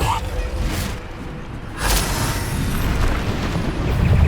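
A Bombarda spell explosion in Hogwarts Legacy bursts with a low, booming blast, followed by a rumbling tail, while voices are heard.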